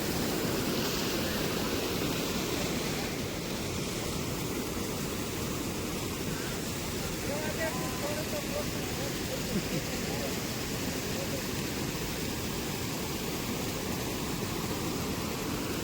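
A broad, steady roar of a river flooded by heavy rain fills the scene continuously, loud and unbroken throughout.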